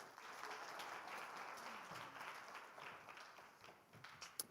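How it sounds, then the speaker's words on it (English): Audience applause after a panel session at a conference, a dense, fairly faint patter of clapping that fades slightly toward the end. "Give them a round of applause once again."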